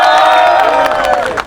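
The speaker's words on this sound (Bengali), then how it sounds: "হাততালি হোক" Students at Holy Family Red Crescent Medical College in Dhaka burst into loud, close cheering and shouting that stays strong for about a second and a half, with clapping mixed into the roar.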